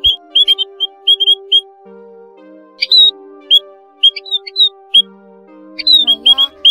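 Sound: recorded call of the Áo Già Đầu Bạc bird, trapping lure

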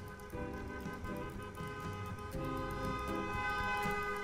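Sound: car horns honking outside in Cooking Simulator video game

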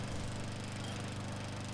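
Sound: lawnmower engine in the video game Dead Rising 2

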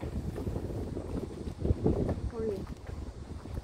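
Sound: strong wind blowing at seaside pavilion

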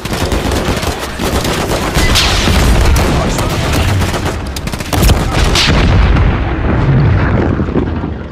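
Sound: gunfire in video game Call of Duty Modern Warfare 3

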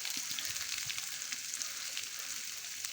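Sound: onion and green chillies frying in a pan for chickpea curry

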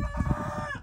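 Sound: rooster crowing

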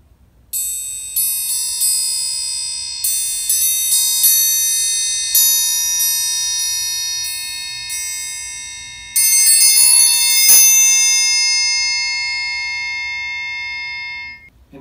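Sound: metal triangles struck, one with grooves dented in

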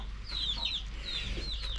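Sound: chickens clucking outdoors

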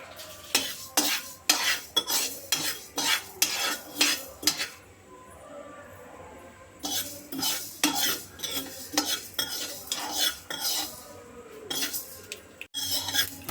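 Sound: roasting mustard and fenugreek seeds in a pan

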